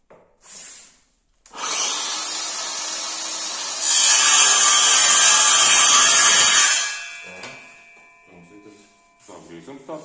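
A wooden skirting board is sawn at an angle for a crooked corner, a steady, loud rasping cut lasting several seconds that grows harsher partway through, with brief handling noise before and after.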